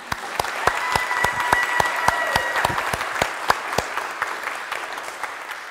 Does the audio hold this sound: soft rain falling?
no